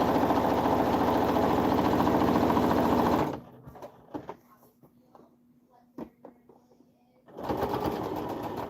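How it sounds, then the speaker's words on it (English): A sewing machine running continuous stitches makes a loud, steady mechanical whir. It stops for a few seconds, leaving faint handling clicks and a low hum, then starts whirring again. "What I do is a continuous stitch because it saves your machine a little bit from"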